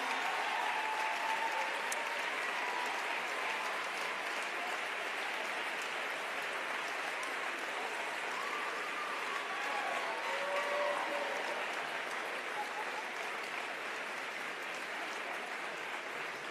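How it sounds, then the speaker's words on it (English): Sustained applause from a crowd at a Christmas party of a political caucus, a dense, even clatter of many hands that carries on without a break from start to finish. "On peut-tu, s'il vous plaît, prendre un moment pour donner une main d'applaudissement à Stavroula, Rana, India, Alex et Rebecca."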